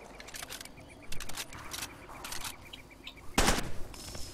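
Rapid bursts of automatic gunfire in the video game Far Cry 2, several rattling volleys in quick succession, ending in one loud, sharp report.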